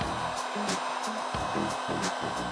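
A heat gun shrinking heat shrink tubing over wires on an Apollo Ghost scooter's key ignition gives a steady, close blowing whir with a pulsing low hum, heard on its own.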